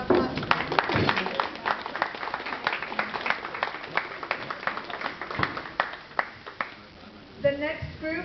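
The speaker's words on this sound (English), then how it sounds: "Clap, clap, clap, clap, clap." Audience at a Nebraskans for Peace rice and beans dinner claps for first-time attendees, a loose patter of hands through most of the stretch, with talk mixed in beneath and a voice near the end.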